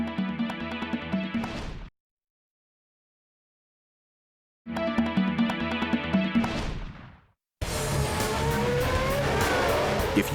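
Racing car engine screaming at speed, two loud full-throttle bursts separated by a sudden cut to silence, then a continuous high-revving roar with rising and falling pitch.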